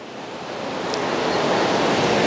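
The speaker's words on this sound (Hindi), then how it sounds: "यहाँ आप देखेंगे यह अलकनंदा का कैसा पानी है, और यह पानी भागीरथी का कैसा है।" Rushing water of the Alaknanda river in Tehri Garhwal, a loud, broad, continuous roar that swells slightly over the couple of seconds, heard close with no talking.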